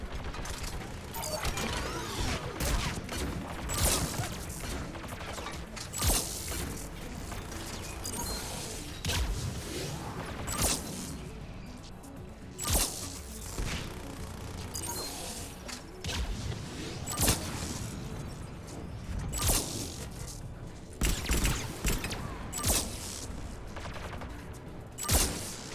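Automatic turret gunfire in the Mass Effect 3 video game, a dense run of sharp mechanical bursts and clanking shots that keeps going loudly for the whole stretch, with no talking.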